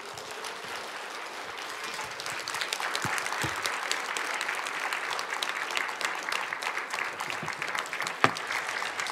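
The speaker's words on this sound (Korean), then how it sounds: "큰 박수로 환영하겠습니다." A church congregation applauds to welcome pastor Kim Byung-sam of Manna Church before his sermon, a steady, moderately loud wash of many hands clapping throughout, with a few sharper claps standing out.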